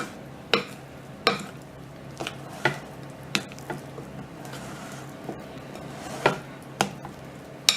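Birthday cake batter is mixed in a bowl, giving a steady low churning broken by sharp, irregular clinks of the utensil against the side, close and moderately loud with no talk.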